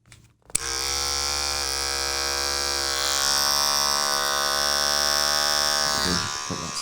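Andis barber hair clippers switch on with a sharp click and settle into a steady, high-pitched electric buzz that holds, close and alone, for several seconds before cutting off.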